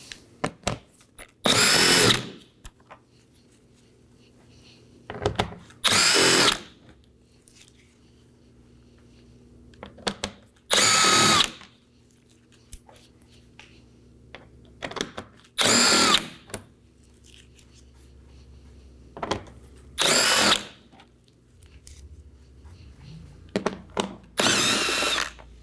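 A power drill removes 7mm bolts from under the front bumper of a Chevrolet Equinox. Six short, loud whirring bursts are spaced several seconds apart, with quiet handling between them.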